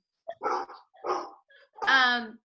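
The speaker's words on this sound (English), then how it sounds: "So if my dog would shut up, Romeo." A pet dog barks a few times indoors, three short close bursts with the last one longer and more drawn out, in an otherwise quiet room.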